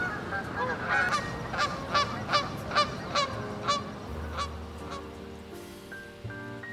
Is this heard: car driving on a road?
no